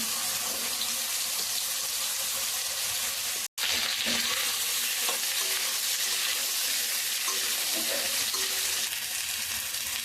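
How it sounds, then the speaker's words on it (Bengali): Radhuni seeds, potato and drumstick pieces go into hot oil, giving a loud, continuous close-up sizzle with stirring scrapes and one brief break. "ফোড়নে দিয়ে দেবো রাঁধুনি, আলু আর সজনের ডাঁটাটা দিয়ে দেবো"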